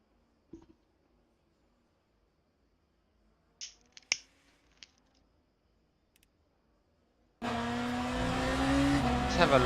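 A BMW race car in a racing video game at Imola: after several quiet seconds with a few faint clicks, a loud engine roar bursts in near the end, its pitch climbing as the car accelerates.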